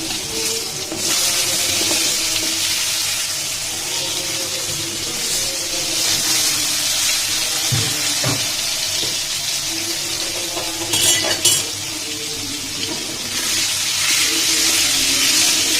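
Potatoes with turmeric and salt frying in a pan give a loud, steady hiss and sizzle throughout, with a few brief clatters partway through.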